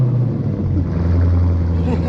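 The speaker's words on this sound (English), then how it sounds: "So we're gonna get the car started." A 2022 Dodge Charger Scat Pack Widebody V8 rumbles steadily at close range, a deep continuous low-end drone with a faint higher whine.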